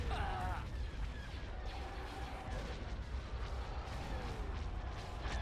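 Dense, continuous battle barrage from Star Wars: Empire at War with the Thrawn's Revenge mod, cannons and weapons firing in overlapping booms and crackles throughout, loud and busy with no pause.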